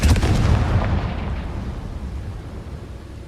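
Confringo blasting-spell explosions in Hogwarts Legacy go off as a loud close burst that fades into a rumbling decay over a few seconds.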